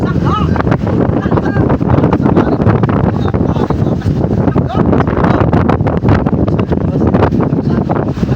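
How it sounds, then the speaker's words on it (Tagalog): Steady, loud wind roaring across the microphone with a broadband rush like open water and spray, continuous throughout with no pauses. "palakas ang hangin, saka namumuli ng dagat"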